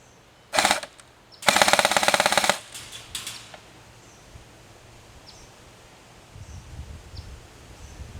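A Tannhauser Gate M2H .50 cal airsoft replica fires full auto in two bursts, a short rattle and then a longer one of about a second, loud and close, followed by quiet rustling outdoors.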